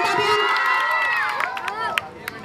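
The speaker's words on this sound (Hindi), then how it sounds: "बच्चों चिल्लाओ मत बेटा, खाली तालियां बजाओ अगर अच्छा लगे तो" Children shouting and cheering at a public political meeting, a loud chorus of high excited voices sliding up and down, with a few claps at the end.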